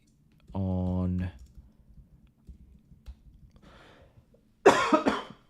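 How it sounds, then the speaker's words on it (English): A person coughs a few times, with one short burst near the start and a harsher, louder cough near the end, separated by quiet keyboard-like clicks and a brief hum. "I don't want to cough too much."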